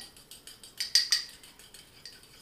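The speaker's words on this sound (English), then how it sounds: "And then I'm going to whisk that." Egg yolks seasoned with salt whisked in a bowl, a quick run of light metallic clinks and taps, near and fairly soft, with a brief busier burst midway and no talk.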